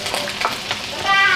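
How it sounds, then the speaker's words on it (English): Ginger and onions frying in hot coconut oil in a skillet, giving a steady, fairly loud broadband sizzle with a brief crackling swell partway through and no talking. "Once my coconut oil is well heated up, I'll go ahead and add my ginger and onions."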